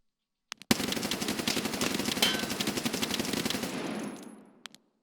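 Sustained automatic fire from an Mk47 Mutant rifle in a video game, a dense rapid burst lasting about three seconds that cuts off into a fading tail, with a couple of faint clicks before and after.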